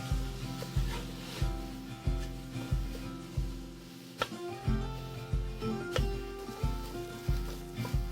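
Sautéed vegetables with pepper browning in a pan give a low steady sizzle, broken by regular scraping strokes roughly every second, close by and with no voices.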